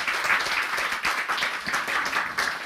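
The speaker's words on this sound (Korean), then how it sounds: "박수로 예수님께 다시 한번 영광 돌리겠습니다." A church congregation applauds after the sermon, a short burst of brisk clapping from many hands in a reverberant room.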